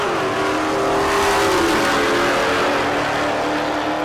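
A C6 Corvette at a drag racing event in Ennis, Texas revs hard at the launch, a loud rising engine roar that stays close and steady for a few seconds with no talk.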